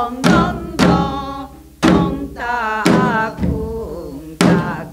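Loud, sharp janggu drum strokes in a Korean noraetgarak rhythm pattern, struck in repeating groups with resonant booming hits and crisp higher slaps, close and alone with no voices.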